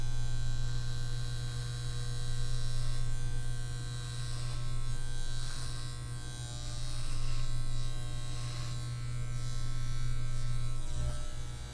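Electric clippers buzz steadily while shaving a man's head, a close, continuous motor drone with a strong low hum that swells and dips slightly as the blades move across the scalp, with no talking.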